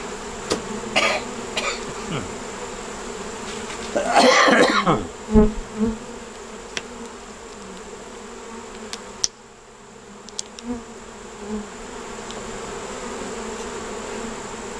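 Honeybees at an open hive buzz in a low, steady drone throughout, interrupted midway by a burst of coughing and a few brief knocks.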